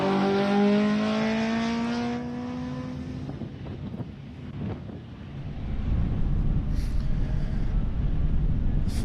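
A fully built Ford Laser two-door hill climb car at a Hillclimb SA national event, its engine note revving and falling away in the distance under loud wind buffeting, then a rough rumble that swells again.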